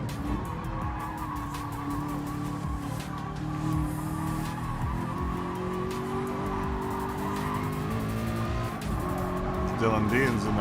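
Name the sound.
race car tire squeal in GT Sport video game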